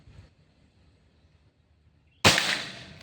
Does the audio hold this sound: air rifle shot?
yes